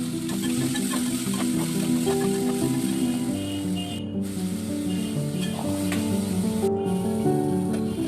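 Tomatoes and green chillies sizzle in a pan for a brinjal and egg curry, making a continuous loud crackling hiss over a steady tonal background.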